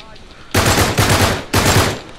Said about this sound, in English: I just shot him like 8 times in the face.